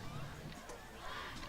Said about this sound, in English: Cheerleaders urging the crowd to get into it.